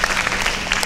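Audience members at a national education research and innovation conference give a short burst of applause, a quick patter of clapping hands filling the hall for under a second.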